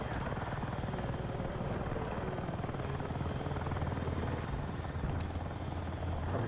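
Video game helicopter rotor thumping steadily and loudly for the whole stretch, a dense continuous chop with no talk over it.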